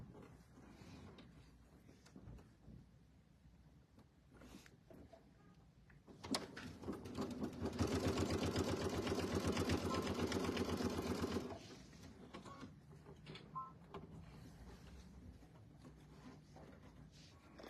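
A sewing machine stitches a mini quilt, running in a loud, rapid, steady burst of about five seconds in the middle. Quieter handling and fabric rustles come before and after the run.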